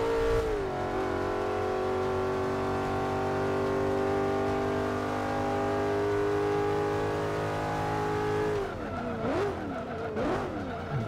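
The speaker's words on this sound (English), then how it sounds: "Really hear that engine in the exhaust." A BMW M5 engine in the video game Forza 5 drones at high revs with a steady tonal whine, then downshifts with sharp rising and falling revs near the end.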